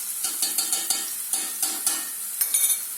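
Chopped green peppers and onions sizzle steadily in a pan for olive-oil fresh peas while tomato paste goes in, with a spoon stirring and scraping in quick irregular strokes close up; no voices.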